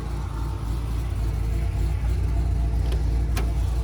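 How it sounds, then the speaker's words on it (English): A supercharged car engine hums steadily at a low, constant level with a faint blower whine riding on top, plus two brief sharper bursts near the end; no one speaks. "the blower whine is so much more pronounced now"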